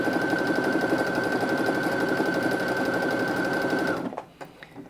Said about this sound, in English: if I carry on sewing, it will stitch out the design